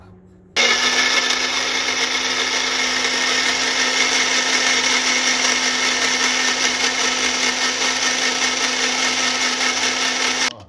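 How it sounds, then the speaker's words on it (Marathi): A mixer grinder blending chutney starts abruptly and runs at a steady, loud, high-pitched whirr for about ten seconds, then cuts off. "हे आता आपण मिक्सरमधून काढून घेणार"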